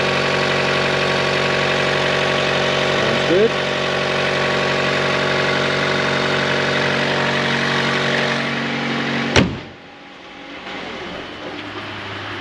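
A high-mileage Chevrolet Volt's engine idles steadily at close range with the hood open, a low, even hum, then abruptly cuts off, leaving near silence; a brief remark is spoken over it.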